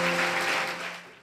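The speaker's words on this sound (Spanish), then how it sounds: "¿Por qué no le dan un aplauso al Señor?" A church congregation gives a short burst of applause at the end of a sermon, a dense wash of clapping that fades out within about a second, with a faint sustained tone beneath it.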